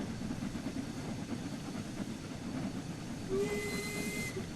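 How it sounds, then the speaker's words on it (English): A short steam-style train whistle from a locomotive in the simulator game Train Sim World 6, a single brief blast near the end over a steady rumbling hiss of the moving train. "Short whistle."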